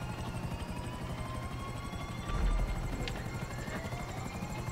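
A helicopter in a GTA Online prison break heist gives a steady rapid rotor chop, moderately loud and continuous, with a brief louder swell near the middle and no talk.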